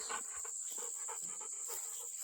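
A dog panting down by a creek, quick rhythmic breaths close to the mic over a constant high insect or cricket drone outdoors.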